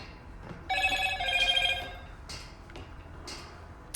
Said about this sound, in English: Forgot to switch off my phone.